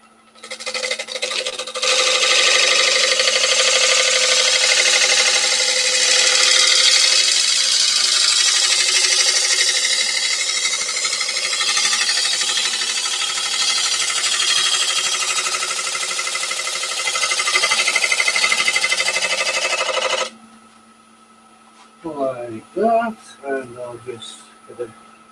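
Bowl gouge cutting the rim of a wooden bowl spinning on a lathe, a loud steady grinding whine for about twenty seconds before it stops and someone speaks briefly.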